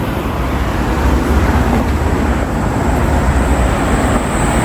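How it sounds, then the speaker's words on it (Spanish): A garbage truck rolls along a San Francisco city street, a steady, loud low rumble of engine and road noise that holds for the whole stretch with no clear rise or fall. "Acá el camión recolector"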